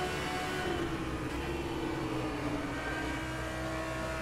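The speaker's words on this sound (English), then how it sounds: "I definitely like the sound of the Audi." An Audi GT3 race car in rFactor 2 at Silverstone drones with a steady, sustained engine note at constant revs, close and continuous with no talking.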